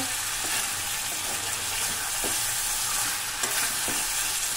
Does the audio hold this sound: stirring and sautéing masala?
yes